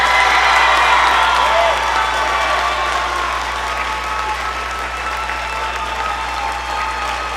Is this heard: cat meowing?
no